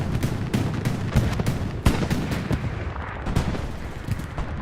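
Artillery rounds landing on Omaha Beach in a battle video game, a rapid run of loud booming impacts and gunfire cracks that keeps coming close together with no voices.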